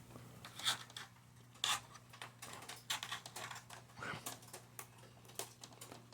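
Clicky keystrokes on a computer keyboard being set up on an iMac, coming in irregular bursts of taps at close range over a steady low electrical hum, with no voices.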